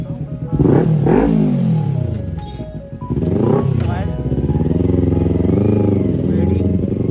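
A motorbike on the road near Sonarundi Rajbari revs up and accelerates in a couple of rising, whining surges, then holds a loud steady drone close by, with a voice speaking over it.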